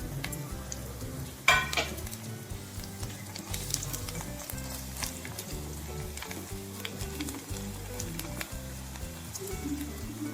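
Cloves, cinnamon, cardamom and bay leaves frying with browned onions for a cashew mushroom curry, a quiet continuous sizzle with one sharp clink of a spoon against the pan.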